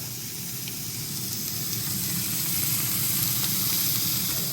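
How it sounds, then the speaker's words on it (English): Sous vide steaks searing on both sides in a hot pan, a steady, loud sizzle with broadband hiss that holds evenly throughout, no voices. "we sear the meat on both sides"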